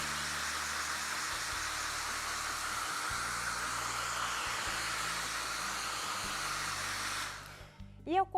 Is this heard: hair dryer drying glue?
yes